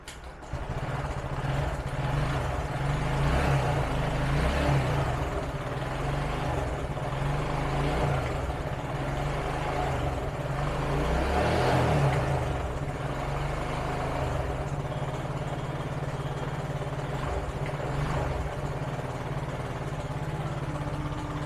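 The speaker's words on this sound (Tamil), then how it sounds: "இப்போ வண்டி எப்படி ஸ்டார்ட் ஆகுது நீங்களே பாருங்கள்" A BS6 motorcycle engine starting and then idling, a steady low rumbling chug that holds evenly for about twenty seconds with small swells, close and continuous.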